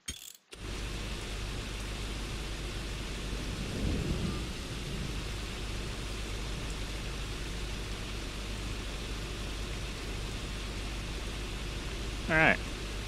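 Rain pours steadily in Farming Simulator 25 while a low rumble of thunder rolls in near four seconds, and a brief sharper burst comes near the end; the hiss of rain holds constant throughout.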